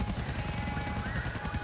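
Helicopter rotor in GTA IV: The Lost and Damned: a steady, loud chop from blades beating close by, dense and continuous with no voices.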